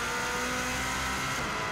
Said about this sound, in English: it's also revving quite a lot higher than the previous car